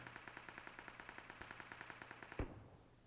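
Rapid automatic gunfire in PUBG Mobile rattles off as an even, fast burst of repeated shots at moderate distance, ending with a single heavier bang and a short decay.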